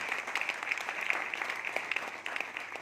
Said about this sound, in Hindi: तो एक बार ताली बजाए माई स्पॉन्सर